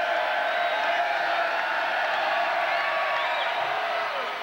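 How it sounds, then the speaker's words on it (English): Steady roar of a college basketball arena crowd jeering a player at a foul shot during a close Tennessee at Florida game, dense and continuous with scattered whoops, fading slightly at the end. "The crowd will get on him again."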